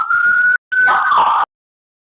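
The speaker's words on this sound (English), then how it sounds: "Yay, sirens." Emergency vehicle siren sounding in two loud, close bursts of a steady wailing tone, separated by a short gap and cut off abruptly, with a third starting at the very end.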